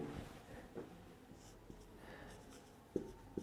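A pen writes on paper during a class-12 chemistry lesson: soft scratchy strokes with a few small taps, close and quiet, steady for a few seconds with no speech.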